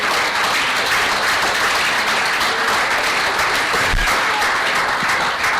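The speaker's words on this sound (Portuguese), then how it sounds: "Acho que devia bater palmas, porque há aqui muita gente." Audience at a live debate applauding, a dense, steady wash of clapping from a large crowd that holds at full strength throughout without a break.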